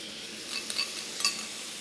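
Sauce hits tofu in a hot pan on high heat, a steady close hiss of sizzling with faint stirring clinks, brief and without talk.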